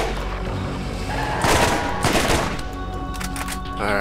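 Combat rifle gunfire in Borderlands, with rapid bursts of shots over a droning game background, two loud volleys close together followed by lighter trailing shots, near and prominent.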